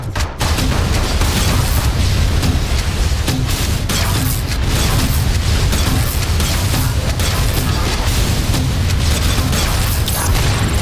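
Grenade launcher blasts pound an ED-209 in RoboCop: Rogue City, a loud, relentless barrage of booming explosions and mechanical clatter with no pause.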